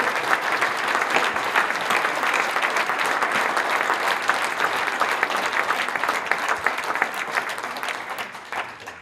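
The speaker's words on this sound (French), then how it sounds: "je vous demande d'applaudir très très fortement Eddie Megadi, champion du monde junior danse" Sustained audience applause at a roller figure skating awards ceremony honouring a junior world dance solo champion, steady dense clapping filling the hall without pause for the whole stretch.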